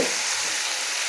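Pieces of elephant foot yam fry in a pan over a medium flame, giving a steady, close, continuous sizzle with a loud crackle throughout and no talking.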